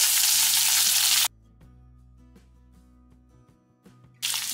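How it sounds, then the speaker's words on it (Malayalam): Cut okra sautéing in coconut oil, loud close sizzling at first, then a sudden drop to a near-quiet stretch with faint light clicks before the bright sizzle returns. "ഇനി ഇതിലേക്ക് നമ്മൾ മുറിച്ച് വെച്ചിട്ടുള്ള വെണ്ടയ്ക്ക ഇട്ട് ഒന്ന് വഴറ്റി കൊടുക്കാണ്."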